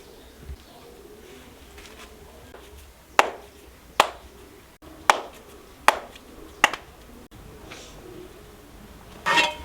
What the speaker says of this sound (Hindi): बारीक बारीक और छोटे छोटे टुकड़ों में काटूंगी।